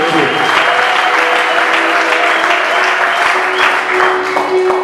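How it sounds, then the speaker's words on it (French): A church congregation applauds and cheers for the Saviour during a service, a loud, dense, continuous wash of clapping with raised voices mixed in, sustained evenly from start to finish. "Est-ce qu'on peut acclamer notre Sauveur?"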